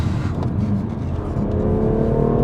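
A BMW M2 Competition's engine pulls hard and close, its tone rising smoothly and continuously as the car accelerates without a break.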